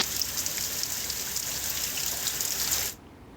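Steady rain patters and hisses evenly on surfaces in Amreli district, a fine continuous wash of drops at moderate level that cuts off abruptly near the end.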